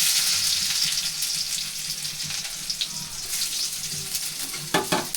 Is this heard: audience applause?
no